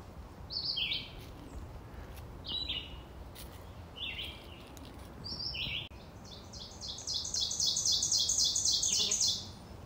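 A red-eyed vireo sings short, clear phrases separated by pauses, then a longer rapid run of notes, over quiet outdoor background in Massachusetts.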